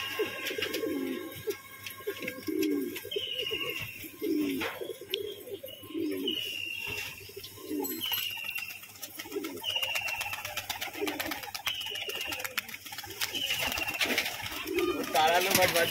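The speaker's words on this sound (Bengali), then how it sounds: "একটা নর পায়রা, খুব সুন্দর একটা বিগ সাইজের" A large white male pigeon coos repeatedly in steady rhythmic bursts close by, with people talking and chirping birds in the background.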